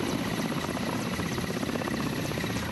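Helicopter flying on the return trip of an Arctic expedition, a steady, loud, continuous rotor and engine drone heard from inside or close by, with no voices.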